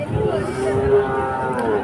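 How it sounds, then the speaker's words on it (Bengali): Calves at a village cattle market low in steady, drawn-out moos close by, with a murmur of crowd noise beneath. "যে অনেক বাছুর এখানে দেখা যাচ্ছে।"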